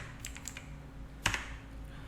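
A few quiet keystrokes on a computer keyboard, scattered taps with one sharper click in the middle, faint against a low room hum.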